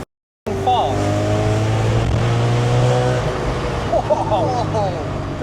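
A 630bhp supercharged Audi RS4 Avant accelerates hard in second gear from inside the cabin, its engine note rising in a loud, sustained climb after a brief silence, with a short shift-like wobble near the end.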